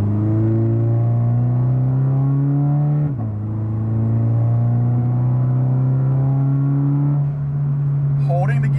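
Automatic Toyota 86/Subaru BRZ accelerating hard in sport mode, a loud steady engine drone rising through the revs, dipping at one upshift around the midpoint and climbing again, close and continuous.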